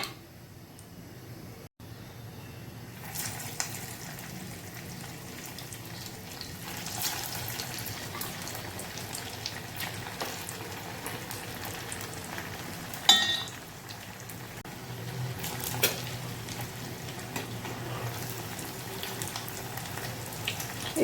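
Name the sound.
poha medu vada deep frying in oil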